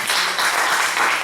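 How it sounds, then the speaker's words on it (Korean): Congregation applause during a church worship service, a brief burst of many hands clapping together, dense and steady at moderate loudness. "하나님께 감사와 영광의 박수를 드립니다."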